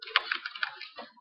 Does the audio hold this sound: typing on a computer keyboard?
yes